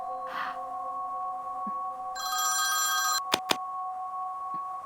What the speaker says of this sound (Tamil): இந்த நேரத்துல யார் ஃபோன் பண்றது?